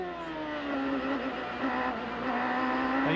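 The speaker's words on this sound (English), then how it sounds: "Hear that raise in the engine, the back end almost comes off the ground, gives that little spike on the engine" Onboard a 1996–2002 CART race car, the engine holds a high, steady drone and then climbs in pitch as the revs rise, loud and close throughout.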